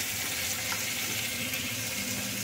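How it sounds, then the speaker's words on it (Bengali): Bitter gourd fries with salt in a pan, giving a steady, close, even sizzle that holds without a break. "নুন দিয়ে ভেজে নিচ্ছি"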